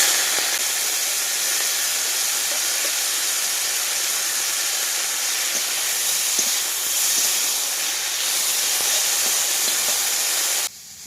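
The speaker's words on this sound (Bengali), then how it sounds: "এবার কেটে রাখা সজনের ফুল আর আলুগুলো দিয়ে দিচ্ছি" Drumstick flowers and potato pieces sizzling in hot oil with whole cumin, a loud, dense, steady hiss filling the clip close up, ending in a sudden drop near the end.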